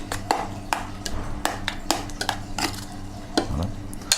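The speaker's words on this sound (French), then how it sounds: "On mélange bien." Seasoned crab meat, with salt and freshly ground black pepper, stirred in a bowl: a utensil clinks and taps against the dish in a quick, irregular series of bright, close knocks, with no one speaking.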